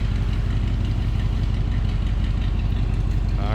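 A 1959 Edsel Ranger with a 292 V8 idles steadily, a loud, even low rumble with a continuous throb, heard close up with no other sounds.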